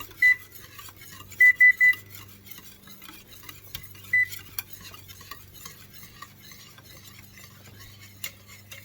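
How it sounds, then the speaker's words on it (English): A spoon stirs a cream and sugar mixture in a saucepan on the stove, giving soft scrapes and a few sharp clinks against the metal pan over a low, steady hum, with no talking. "So I'm just going to continue stirring it while waiting for it to come to a boil."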